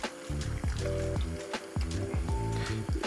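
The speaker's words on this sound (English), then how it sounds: "First of all, I need to wash it, so wash it a little bit," Two tablespoons of barley being rinsed with water in a kitchen: close, wet squishing and dripping pulses repeat in an uneven rhythm for about three seconds.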